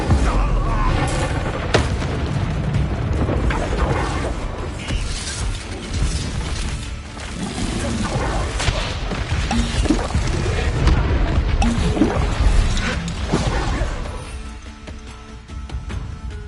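Spells, including the Incendio fire spell, are cast in the video game Hogwarts Legacy, giving loud, dense booms and bursts that run almost continuously amid combat noise and fade near the end. A voice is heard throughout.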